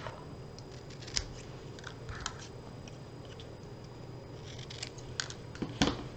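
Scissors snip craft pieces in half for a paper coneflower, a few faint, sharp cuts spaced irregularly against a quiet room.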